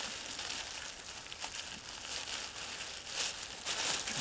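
Plastic moving mattress wrap, used as an improvised shelter, crinkles and rustles softly in bursts as someone pushes through it, close and quiet with no talking.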